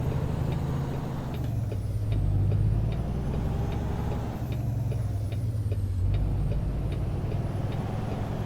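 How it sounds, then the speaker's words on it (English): Cars and trucks stream past in traffic in American Truck Simulator, a steady engine rumble swelling and fading as each vehicle goes by, with a faint ticking beneath it. "here's a steady stream of cars"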